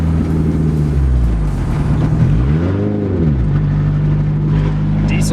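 A deep diesel engine of a Cummins truck rumbles steadily close by, its pitch sweeping up and back down as it revs in fifth gear, with people talking over it.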